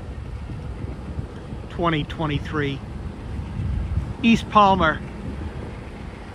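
Strong November wind rumbles and buffets against the microphone throughout at a rail yard in Palmer, with a person speaking briefly twice over the gusty roar.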